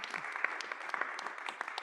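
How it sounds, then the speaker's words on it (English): Audience clapping after a talk in a breakout session, fairly sparse claps from a modest group with distinct individual hand strikes, lasting under two seconds, nobody speaking. "You can clap. Clap for that."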